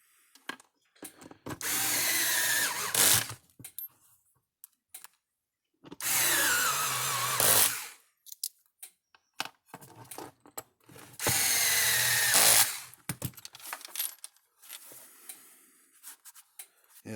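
Power drill driving the four screws into the case of a Zareba EAC50M-Z 50-mile electric fence charger during repair, in three separate whirring bursts of about two seconds each, close and loud, with quiet handling noises between.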